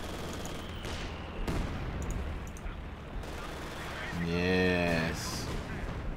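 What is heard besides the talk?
mortar fire in the video game Company of Heroes 2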